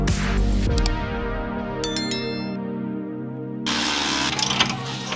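A ratchet clicks in bursts while bolting up rear suspension end link mounts on an MK2 Supra rally car, with metallic tinkles and clanks between strokes, close and fairly quiet.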